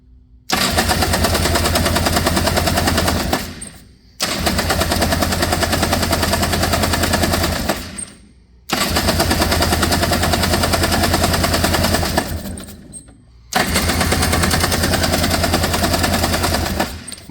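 A 1989 Honda Pilot engine, freshly rebuilt with a dry carburetor and on full choke, cranks in four long bursts, each a loud rapid chugging rattle lasting about three to four seconds, with short pauses between attempts.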